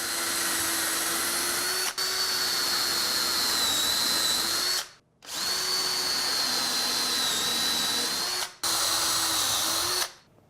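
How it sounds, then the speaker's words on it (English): A power drill with a 1/4 inch brad point bit and stop collar bores shelf pin holes in a cherry wall cabinet, a steady loud whine in long runs with brief stops between holes. "So let's go ahead and drill the shelf pin holes."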